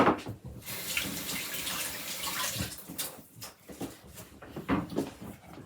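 Tap water runs and splashes over freshly picked garden parsley in a kitchen sink, a steady broadband rush with shifting splashes as the leaves are rinsed, fairly close, with no talking.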